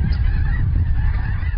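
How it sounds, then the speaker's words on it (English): A huge flock of migratory ducks and geese over flooded fields at a Northern California wildlife refuge keeps up dense, loud, overlapping honking with no pause. "Hundreds of thousands of ducks and geese now cover the flooded fields and the cloudy skies"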